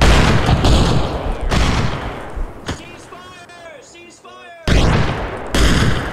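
Incoming indirect-fire explosions in Arma Reforger during a Vietnam jungle combat patrol: several heavy booming blasts, loud and close, with one sharp crack mid-way and broadband roars at the start and end, while voices call out over the impacts.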